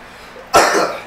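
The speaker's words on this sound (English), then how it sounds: "See, he already coughing." A single sharp cough, close and loud, from a man against a quiet background.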